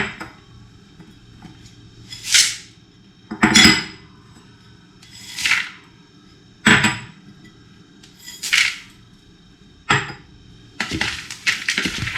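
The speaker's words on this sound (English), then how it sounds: "We're just going to pop those in a bowl and give them a mix." Chopped pecans, coconut and mixed nuts and seeds stirred together in a bowl, giving a series of separate clattering scrapes and clinks, about six bursts spaced a second or two apart, close and fairly loud with no talk.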